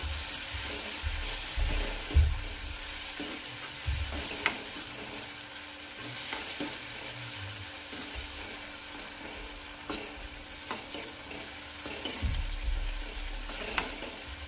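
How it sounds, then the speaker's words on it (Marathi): Tomato paste sautéing in a pan for Punjabi-style rajma masala, a steady low sizzle with occasional stirring scrapes and soft knocks throughout, fairly quiet and close, no talking. "छान परतून घ्यायचं याला असं।"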